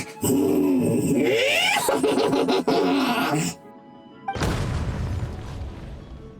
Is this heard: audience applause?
no